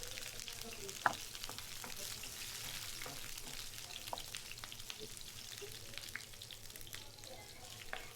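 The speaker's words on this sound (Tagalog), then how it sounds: "pinainit ko na yung ating kawali. Lagay na natin tong onion." Onion fries in a heated kawali, a low, steady crackle and sizzle scattered with small pops and one sharper tap of a utensil, faint and continuous without voices.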